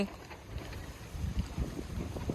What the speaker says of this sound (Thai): ลมพัดทรายพัดฝุ่นนะคะ